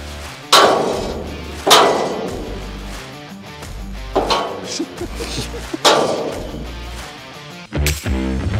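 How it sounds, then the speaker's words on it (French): Heavy hammer blows on metal while repairing farm wagons, five or six loud, sharp impacts spaced irregularly with ringing decay, close by and without talk. "Combien de coups de marteau pour l'avoir celui-là?"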